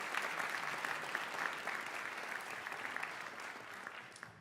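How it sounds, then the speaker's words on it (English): An audience at a school band concert applauds, a steady, moderately distant wash of many hands clapping continuously throughout. "Let's give them a round of applause."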